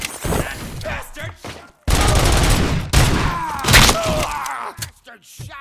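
Gunfire in the video game RoboCop: Rogue City comes as several loud, dense bursts of shots with heavy impacts and crashes. Sharp cutoffs break the bursts apart.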